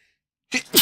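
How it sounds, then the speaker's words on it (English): A single close, loud human sneeze, a short sharp burst after a moment of silence. "I've said Man City and I've started sneezing."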